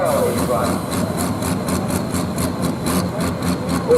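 A pulling tractor's engine runs loud and steady at the Heddington & Stockley rally, a heavy continuous roar with a rhythmic pulsing throb throughout.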